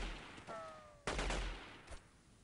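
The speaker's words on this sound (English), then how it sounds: "Oh, shooting at me from here." Gunfire in the video game Delta Force 2 aimed at the player: a sharp close shot stands out, with a few further cracks and bursts following in a busy, noisy battle mix.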